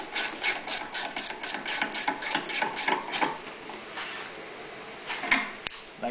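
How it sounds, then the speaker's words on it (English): Rapid ratcheting clicks from a deep well socket driving a 10 mm hex stud into a Honda EU3000is generator, a quick close-up run of bursts that stops partway, followed by a few faint handling knocks. "you just use a deep well socket and screw the stud into the hole where it goes"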